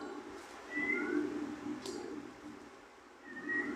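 A pet cat meows indoors, two short mid-pitched cries about three seconds apart, fairly close and moderately loud over a low room hum.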